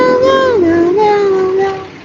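A human voice imitates a cat, producing a single drawn-out, sliding meow that is loud and close.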